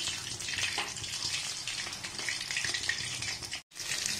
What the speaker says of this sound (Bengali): এই মাছগুলো উল্টে দিয়ে ভালো করে ভেজে নিতে হবে দুপিস